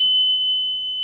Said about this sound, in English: you will get your audible alarm.